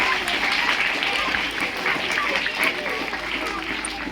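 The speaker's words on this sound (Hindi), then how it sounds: "जोरदार ताली लगाओ बेटा। ताली लगाइए।" Children applauding a prize winner at a school Thursday prayer assembly, a steady wash of mid-loud clapping with faint voices mixed in, continuing throughout.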